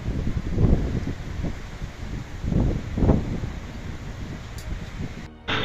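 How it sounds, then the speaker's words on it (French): Strong, gusty storm wind with rain, roaring in broad surges, buffeting the microphone with heavy low rumbles that rise and fall, and a sharp cutoff near the end. "Le vent a vraiment pris dessus."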